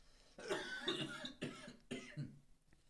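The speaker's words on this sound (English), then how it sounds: "you should have let me know you were gonna cough" A man coughing, several hoarse, separate bursts close by and fairly quiet, with short gaps between them.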